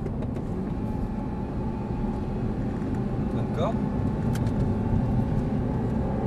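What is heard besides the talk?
sports car engine accelerating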